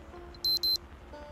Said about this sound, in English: Turn this stupid alarm off.